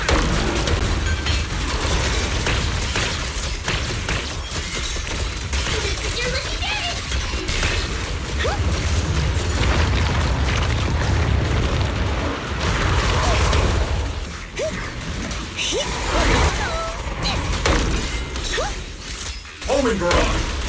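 Homing barrage missiles from Zenless Zone Zero burst in a dense string of thuds, booms and crashes amid constant game clatter, with voices talking over the action.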